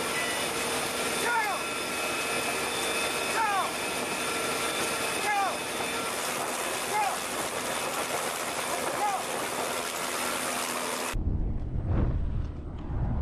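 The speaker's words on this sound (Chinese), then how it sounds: "夜色中，武装直升机规避敌雷达阵地，" An armed military helicopter flies at night on a special forces night parachute training exercise. Its engine and rotor give a steady, loud drone with recurring tonal sweeps, then the sound shifts abruptly near the end.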